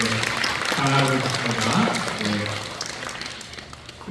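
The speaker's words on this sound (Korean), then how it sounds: "우리 박수로 환영해 주시겠습니다" A church congregation claps to welcome visitors, moderately loud and close, while someone speaks over the applause and sustained tones sound beneath it.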